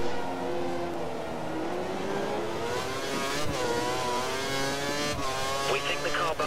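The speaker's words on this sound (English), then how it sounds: "We think the car behind is running on full revs." A Formula One race car in the F1 2013 racing game, China circuit, held at full revs: a continuous high-pitched engine whine with steady rising harmonics, loud and constant, with brief gear-change blips near the end.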